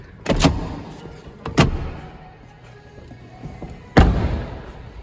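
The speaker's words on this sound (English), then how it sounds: "All the seats fold like this," Seats of a seven-seater car are folded down, giving three separate heavy thumps and clunks with quiet mechanical shuffling between them, close by.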